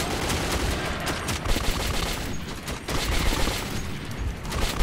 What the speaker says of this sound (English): Some hip fire here.